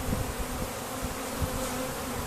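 Honeybees from a package installed a day earlier drone in a steady, dense buzz close by, an unbroken swarm hum with a few louder individual passes and no voices.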